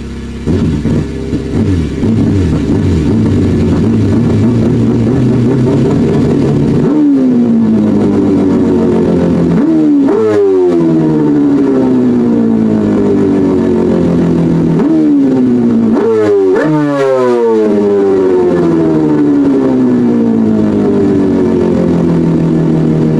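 A computer-simulated rotary engine hums steadily, then revs up and drops back several times, each rise a sharp, buzzing 'brap' that rings loud and clear with nothing else playing.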